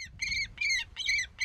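Repeated harsh squawks from a falcon handled by a falconer outdoors, four loud calls in a steady rhythm with brief gaps, close and clear over low background rumble.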